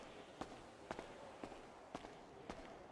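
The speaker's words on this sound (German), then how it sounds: "Oh, ich hör Schritte." Footsteps in GTA roleplay, five distinct, evenly spaced steps over a low ambient bed, moderately close and fairly faint, with no talking.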